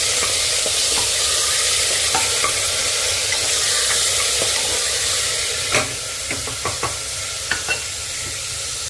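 Mutton fries loudly in a pan with a constant hissing sizzle, close up, while a spoon scrapes and taps against the metal in scattered strokes, more often toward the end.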